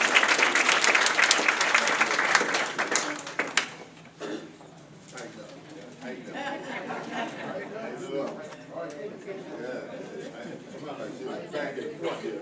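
Applause from the audience at a school district board meeting, steady clapping for about three seconds that tapers off into murmuring room noise and faint voices.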